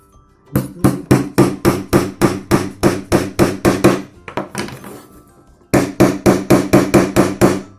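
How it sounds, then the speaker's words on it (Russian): Small nails are hammered into a wooden bar while assembling a handmade mechanical clown toy, heard as a close, steady run of sharp taps, a brief pause with softer knocks, then another quick series of blows. "Теперь надо нам вот сюда забить гвоздики с одной стороны"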